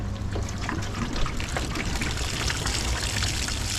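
Water pours and trickles steadily from the scuttle drain of a Dacia Sandero Stepway, with a continuous liquid splashing and dribbling close by and no talking.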